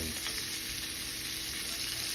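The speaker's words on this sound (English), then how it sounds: "I'm cooking right now." Food frying in a pan gives a steady, close, dense sizzle that holds evenly throughout, with no voices over it.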